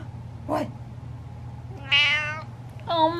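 A cat meows three times in short, separate calls, close and clear against quiet room hum, the later meows louder and more drawn out.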